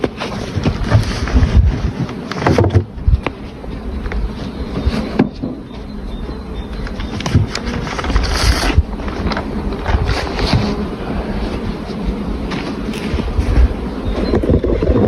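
Honey bees buzzing at an opened hive during a beekeeper's inspection while a super is added, a dense continuous hum with wind noise buffeting the microphone.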